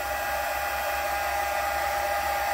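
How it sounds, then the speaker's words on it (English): A hair dryer blows steadily with a constant whirring hum and rushing air, close and unbroken throughout. "we're going to get the hair dryer and we're going to shrink this"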